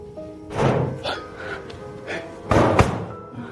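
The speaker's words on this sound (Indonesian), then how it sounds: "Pintu rumah terus digedor tanpa henti." Someone pounds on the door of a house: heavy thumps in two bursts, one early and a louder cluster near the end, with quieter room noise in between.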